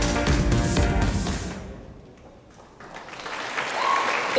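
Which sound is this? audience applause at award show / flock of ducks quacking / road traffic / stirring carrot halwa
audience applause at award show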